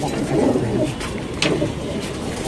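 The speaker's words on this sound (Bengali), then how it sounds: "এই হচ্ছে এখানের বাচ্চা কবুতরগুলা" Young pigeons in a loft coo softly, low murmuring coos repeating under a steady hum of background noise, fairly close with no clear speech.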